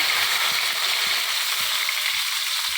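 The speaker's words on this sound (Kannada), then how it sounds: "ಈರುಳ್ಳಿ ಬೇಗ ಫ್ರೈ ಆಗುತ್ತೆ ನೋಡಿ" Chopped onions sizzle steadily in hot oil with cloves for a coconut milk chicken gravy, a continuous bright hiss with faint clicks of stirring underneath.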